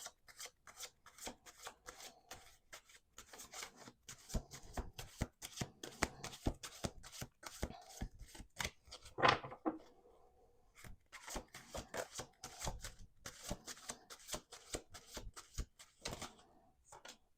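Tarot cards being shuffled over and over, a dense run of quick riffling snaps with brief pauses between shuffles, close and fairly loud.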